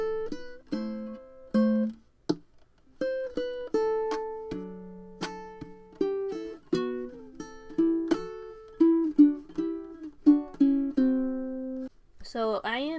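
Solo ukulele picks out the next fingerstyle section of a song: a steady run of plucked notes and paired tones, some short and some left ringing, close and alone, ending in a brief scrape of strings.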